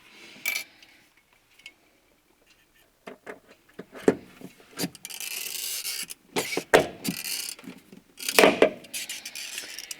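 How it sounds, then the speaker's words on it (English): Non-structural rivets go into a Volvo 240 during a seat and carpet install, heard as sharp, close metallic snaps and clunks in irregular bursts with quiet gaps between, the rivet tool's pops standing out. "Non-structural rivet going in."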